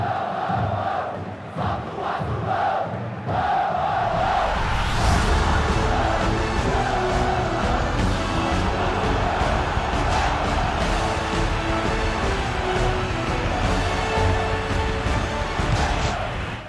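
A virtual stadium crowd in the football video game PES 21 roars for the home match against Vitória, a dense continuous wall of cheering and chanting that swells loudly after a brief quieter opening.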